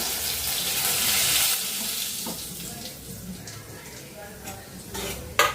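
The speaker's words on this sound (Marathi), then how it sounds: "गुळाचा रवा तुपामध्ये भाजते नाही तेलामध्येच भाजता त्यामुळे ना तेल टाकून घेतलंय" Semolina for a jaggery sweet roasts in oil in a pan, with a steady frying hiss and the scrape of stirring. The sizzle is strongest at first, then settles into quieter scraping and ends with a sharp clatter.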